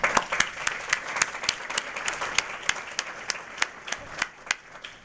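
Scattered applause at a Metro South Chamber Athena Award event, with a modest audience clapping in distinct, separate hand claps rather than a roar, fairly soft and steady throughout, with no talking.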